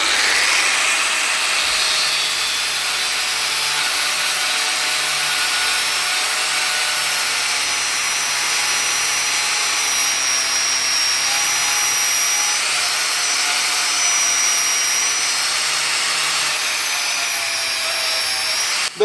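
Parkside Performance PPWS 125 A1 angle grinder running continuously, a loud, steady high-pitched whine with faint shifting tones and no breaks.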